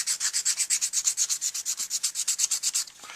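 A bass clarinet mouthpiece rubbed back and forth on 240 grit sandpaper, about two dozen quick, even, close rasping strokes that then stop.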